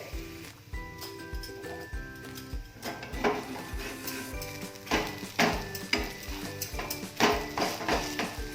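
Coconut tikki frying in a pan, a steady close sizzle with clinks and scrapes of a spatula and pan as the patties are turned and stirred, with music playing over it.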